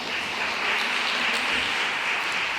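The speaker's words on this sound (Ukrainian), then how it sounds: "Плескаємо." Steady applause from a forum audience in Lviv, continuous dense clapping filling the room at an even level throughout without any speech.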